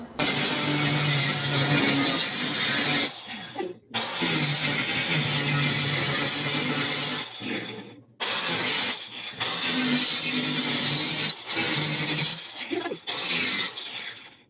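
An angle grinder cutting through iron, whining loudly and continuously in four long passes separated by brief pauses, close to the listener with no talking.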